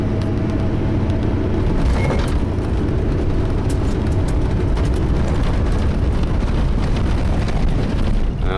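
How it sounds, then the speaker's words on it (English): 1996 Ford E-350 van driving on a country road, steady loud rumbling road and drivetrain noise with wind buffeting, rear gear drive whine buried in the roar. "You can hear a little bit of the gear drive in the back."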